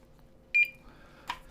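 A barcode scanner gives a short electronic beep as comic books are scanned, followed by a faint clack of handling, close and quiet with no talking.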